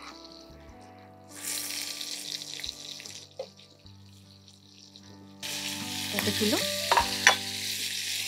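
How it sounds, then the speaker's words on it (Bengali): Hilsa fish slides into hot oil: a quiet opening gives way to a loud, hissing fry that swells again near the end, with clinks and scrapes of utensils close by and no speech. "তেল গরম হয়ে গেছে, এবার আমরা মাছটা দিয়ে দেবো"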